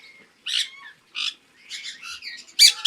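Hand-raised pet birds give short bursts of close, bright chirps and squawky calls, separated by brief silences, with a sharper cluster at the end.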